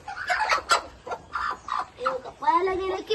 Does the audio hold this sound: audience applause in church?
no